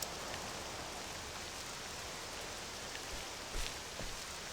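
Steady rain falling in the video game Octopath Traveler II, a soft, even hiss of rainfall with a few faint thumps, low in level and continuous without voices.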